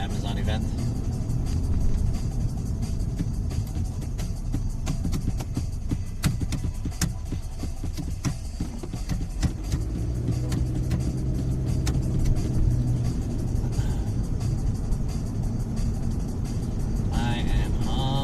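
A car rolls along a road on a 15-minute drive to an Amazon pop-up event in LA, with a steady low road and engine rumble running throughout and people talking over it.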